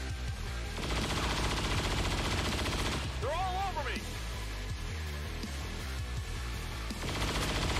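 A couple of gunshots in XCOM 2: War of the Chosen crack out amid dense, busy game noise, with a voice talking underneath and an electronic whistling tone in the middle.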